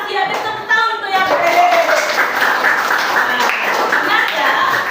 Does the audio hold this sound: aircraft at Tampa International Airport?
no